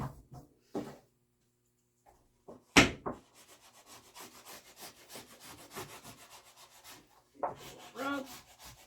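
Canvas rubbed by hand onto a shield cover: one sharp bump, then a long run of close, rhythmic scraping strokes with brief pauses between passes.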